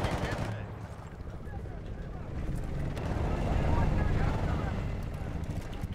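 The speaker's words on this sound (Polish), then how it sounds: "Czyżbym słyszał helikopter?" A helicopter rotor thumps in the Battlefield Bad Company 2 war game, a low, rumbling beat that swells and fades amid gunfire and battle noise, with someone talking over it.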